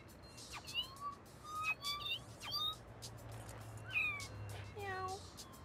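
Cats in the video game No More Heroes meow repeatedly in short, rising and falling calls over a low steady hum, fairly faint.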